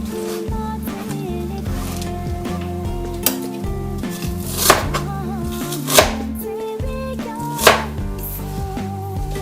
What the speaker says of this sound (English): Now I already cut all the cabbage like this much size.